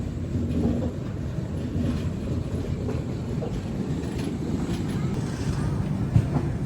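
Garib Rath Express running past Sirpur Kagaznagar, heard from on board as a steady low rumble and rattle of carriages with faint track clatter, continuous and even throughout.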